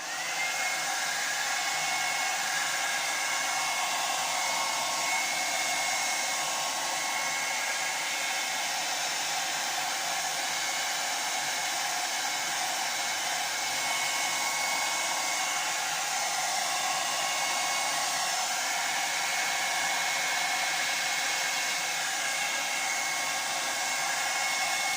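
A hair dryer blows steadily on a freshly poured acrylic pour painting, a loud, unbroken whoosh that holds an even level for the whole stretch, with no voices.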